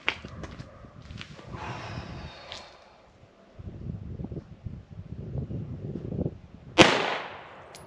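Firearm shots at an outdoor range fired without irons or a red dot, with scattered sharp cracks, one loud close report near the end, and wind buffeting the microphone between them.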